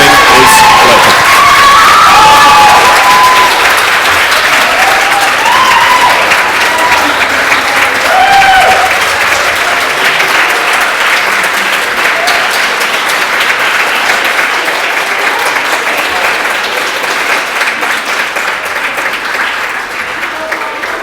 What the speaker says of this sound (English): one last round of applause for everybody who's taken part